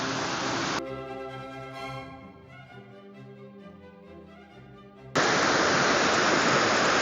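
The rushing roar of the Tully waterfall and its rapids fills the air as a loud, even wash of white noise at the start and end, cut off in the middle by a few seconds of music.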